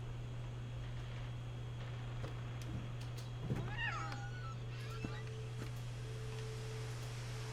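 A cat meows in What Remains of Edith Finch: a few short rising cries in the middle, fairly faint over a steady low hum and soft background noise.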